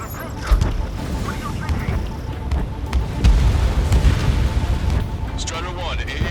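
Explosion of a destroyed anti-aircraft gun in the flight combat game Ace Combat 7, deep rumbling booms under continuous jet roar, with radio voices talking over it.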